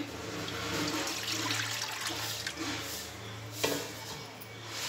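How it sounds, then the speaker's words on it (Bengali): Water runs and splashes steadily into a kadai cooking pan for several seconds, a continuous rushing pour with a brief clunk near the end. "আমি পরিমাণ মতো পানি দিয়ে দেবো কড়াইয়ের মধ্যে।"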